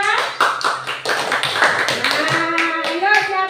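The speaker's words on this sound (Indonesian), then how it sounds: "Tepuk tangan dulu untuk kelompok 3" In a classroom, students clap for a presenting group in sharp, rhythmic bursts of hand claps, close and fairly loud, mixed with voices chanting or calling out along with the beat.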